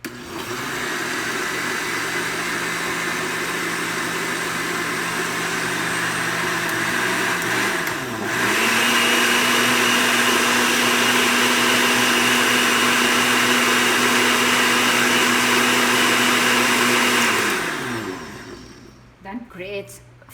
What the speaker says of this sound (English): So it's time for us to blend